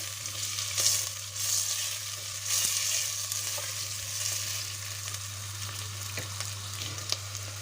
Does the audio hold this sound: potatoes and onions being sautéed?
yes